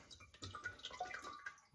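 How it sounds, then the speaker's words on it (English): Kombucha liquid pours and trickles into a jar, a soft continuous splashing with a few drips, close and fairly quiet. "pour in some liquid from that."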